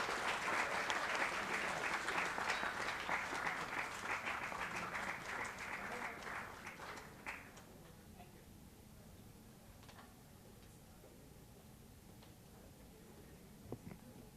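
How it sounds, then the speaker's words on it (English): A conference audience claps steadily for about seven seconds, dense and lively, then the applause fades out into quiet room tone with a couple of faint knocks. "All of you clap."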